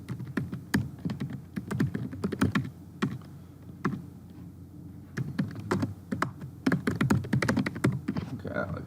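Rapid clicks of typing on a computer keyboard come in bursts with short pauses, close and fairly crisp, while a person talks over the keystrokes.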